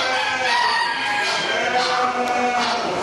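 Rooster crowing at an agricultural fair, a continuous, fairly loud call with a rough, strained tone, heard close up against a busy background of other fowl clucking and faint nearby chatter.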